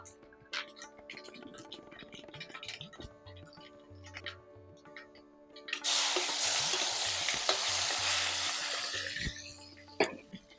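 Cumin and mustard seeds hit hot oil for a curry tempering, bursting into a loud, close sizzle that swells for several seconds and then fades, after quieter kitchen clatter and light stirring.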